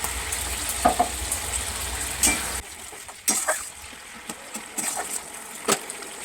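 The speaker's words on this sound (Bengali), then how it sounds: "পেঁয়াজটা আমার ভাজা হয়ে গেছে, এবার আমি সব মশলাগুলো দিয়ে দেবো" Fried onions and spices sizzle in a pan while chicken kosha is cooked, a quiet close crackle punctuated by intermittent scraping stirs and clinks of the spoon, no voices present.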